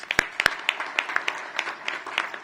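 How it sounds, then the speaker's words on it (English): An audience at a Washington, DC welcome event for a FIFA delegation gives a round of applause: thin, irregular clapping from a modest crowd, fairly faint, with a few sharper nearby claps. "Another round of applause."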